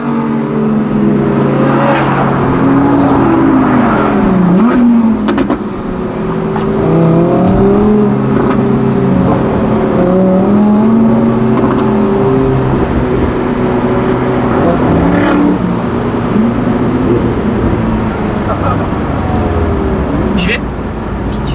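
A supercar convoy of an Audi R8, an Audi RS3 and a Ferrari Portofino rolls along with engines droning and repeatedly revving up and down in rising and falling pitch sweeps, with voices talking over it.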